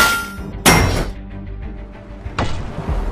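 Two heavy hammer blows land about two seconds apart, each a loud thunk with ringing decay amid a dense background rumble.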